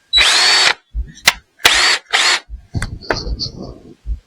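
A power drill bursts in short, loud runs, whirring in several separate pulses up close, followed by clicks and handling knocks as it works a screw.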